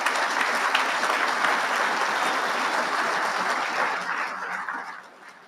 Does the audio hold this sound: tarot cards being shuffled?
no